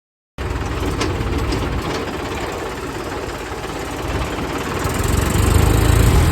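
An Eicher 480 4x4 tractor engine running on a farm test drive, a steady chugging diesel drone that starts abruptly and grows louder and heavier toward the end, with no talk.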